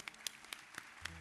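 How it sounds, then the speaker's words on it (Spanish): A few scattered, faint claps ring out at an awards ceremony honoring a regional communicator, sparse and uneven rather than a full ovation, ending in a low hum. "Un fuerte aplauso, gracias."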